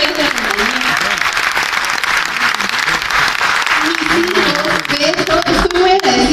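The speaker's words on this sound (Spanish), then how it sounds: "Un aplauso para García." Sustained audience applause in a hall during a speaker's presentation, a loud, dense wash of clapping with a voice speaking over it through much of the stretch.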